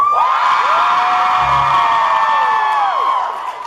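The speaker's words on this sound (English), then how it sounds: "By a round of applause and blood-curdling screams, as Rich likes to say." A convention panel audience at DallasCon 2014 cheers and screams, a sustained, loud crowd roar of whoops and high yells that holds steady before tailing off at the end.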